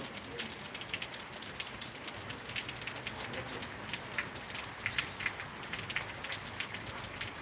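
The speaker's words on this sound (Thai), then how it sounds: "ท้องฟ้าก็มืดครึ้มฝนตกลงมาเรื่อยๆครับ" Steady rain falls over a school assembly yard on a dark, overcast morning at the close of the rainy season, a dense continuous patter with scattered louder drops and no voices.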